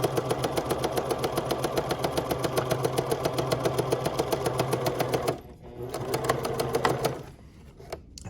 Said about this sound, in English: I'm going to use my 1-inch markation on my machine. And I'm going to sew this up real quick.